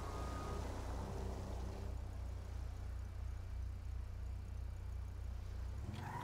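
Maibatsu Penumbra sports car engine in GTA 5 idling with a deep, steady, loud rumble throughout, a faint whine above it, and a brief rev or shift right at the end.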